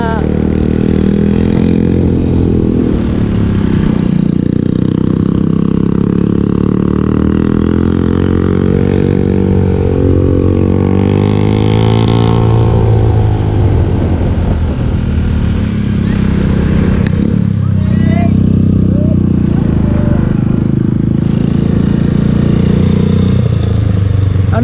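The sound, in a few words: motorcycle riding in first gear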